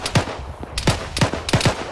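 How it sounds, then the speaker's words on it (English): Gunfire in Arma 3, a rapid series of sharp, loud shots in quick uneven bursts, close by with no talking. "someone's shooting at me"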